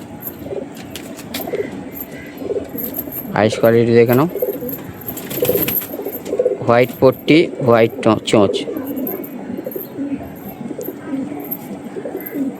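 Madras pigeon coos in a few short rounds close by, heard alongside someone speaking Bengali over a steady background hum.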